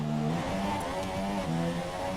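Formula 1 car engine from the F1 2017 racing game at Monaco, a loud continuous whine that rises and falls in pitch through the gears, close and alone with no voices.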